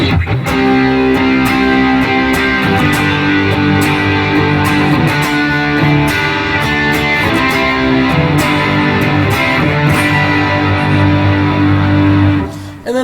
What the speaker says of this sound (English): that prime distortion sounds great on stuff like that